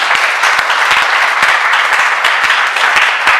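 A church congregation claps and applauds steadily, a dense continuous wash of many hands close by with no talking over it.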